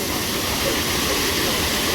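Chander waterfall near Malvan in the Konkan region, a steady broadband roar of falling water filling the whole clip, constant and fairly loud with no talk.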